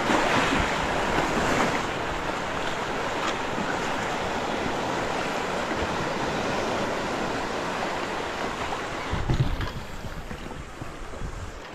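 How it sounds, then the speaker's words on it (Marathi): Ocean waves roll and break on the Konkan shore in a continuous loud wash, wind buffeting the microphone, with a heavier surge near the end. "लाट येत आहे"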